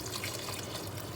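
A small splash of water poured into a pot of lamb stew that already holds chicken stock, giving a brief, steady liquid trickle close by with no voices.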